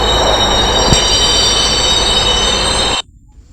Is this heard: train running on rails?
yes